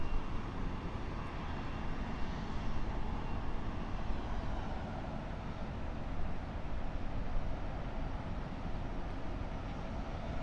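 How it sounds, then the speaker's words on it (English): A SkyQuest aircraft taxis out for departure at Cleveland airport, its engine giving a steady, broad roar that stays loud and even throughout, with no talk over it. "SkyQuest aircraft are heading over for departure."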